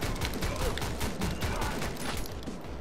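Rapid video-game gunfire from the game Speed Limit crackles in dense bursts, a near-continuous volley of shots layered with busy in-game action and effects, loud and sustained.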